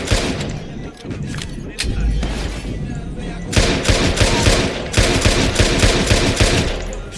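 Dense, loud bursts of gunfire from a shootout in the video game Watch Dogs 2, with a pistol among the weapons, firing in rapid, continuous volleys for several seconds.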